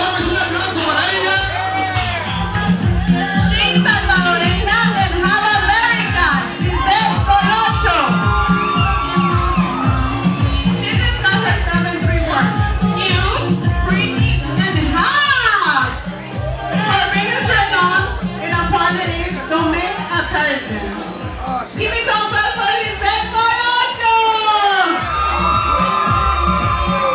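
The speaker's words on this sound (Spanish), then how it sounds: "María Gómez, un aplauso para ella." A crowd at a 2022 bikini contest at Ojos Locos Northline cheers and applauds loudly and without a break, with whoops and shouts rising over a steady rhythmic backing throughout.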